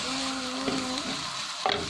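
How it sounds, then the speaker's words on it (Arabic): Button mushrooms crackling and sizzling as they fry in a pan over high heat, a steady close frying hiss with a few sharper pops and spits, no talk. "راه تيطرطق هاد الشامبينيون"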